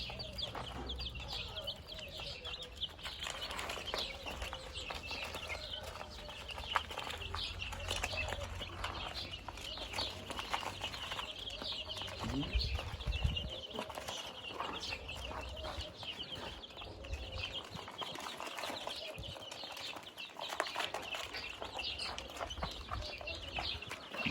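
Brahma, Plymouth and Ligorin-cross chicks chirp in a steady, busy chorus throughout, close by and moderately loud, with occasional louder peeps and light handling noise.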